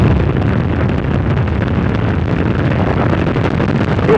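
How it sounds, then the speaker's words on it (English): Space Shuttle Endeavour's boosters ignite at liftoff on the STS-89 launch to Mir, a loud, continuous broadband roar that sounds like a sustained rumble and crackle, with no letup across the whole stretch. "We have booster ignition and liftoff of the Space Shuttle Endeavor"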